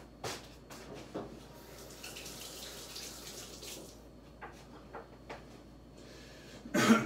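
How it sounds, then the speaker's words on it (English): Running faucet water splashes as a hand is rinsed under the tap after handling jalapenos, with soft steady flow broken by a few knocks and louder splashes near the end. "I'm going to rinse my hand off because I was touching the jalapenos."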